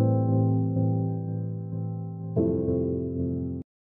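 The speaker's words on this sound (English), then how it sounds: "I have it on this piano part here." A piano part in a music production, filtered with EQ and a movement plugin, sounding as sustained dark chords with a pulsing wobble and a new chord partway through, alone and fairly soft.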